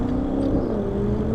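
A Dodge car passes on 31st Street in Paterson, New Jersey, its engine giving a steady, fairly loud drone with a low hum throughout, heard from a bicycle ride along the city street.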